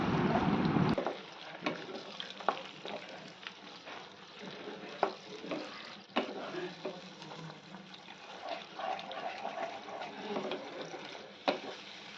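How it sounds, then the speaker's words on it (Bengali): Onion and capsicum frying in oil with sauce being stirred through for chili chicken, a soft steady sizzle with scattered scraping and clinking from the spoon, moderately close, low-level throughout. "এবার সসটা দিয়ে এটাকে ভালো করে মিশিয়ে নেব যতক্ষণ না সসটা দিয়ে তেল বেরোয়"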